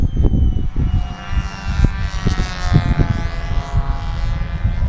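A Cobra control line model plane's small glow engine whines steadily at high pitch as the plane circles, a buzzing drone that swells and fades with faint background noise.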